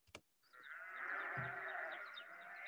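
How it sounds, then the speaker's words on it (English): A sheep bleats in a rock song, one long wavering bleat rising after a brief sharp knock, close and clear over a soft musical background. "So you can hear the sound of the sheep here."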